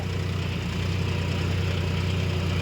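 A John Deere 5050 D tractor engine runs steadily under load in low third gear while pulling a five-tine cultivator, a constant low droning rumble with a strong fundamental hum, close and loud with no speech.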